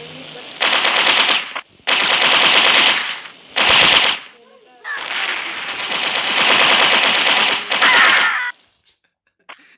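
Rapid automatic gunfire in the mobile shooter game Mini Militia, loud and close, coming in several long bursts broken by short gaps.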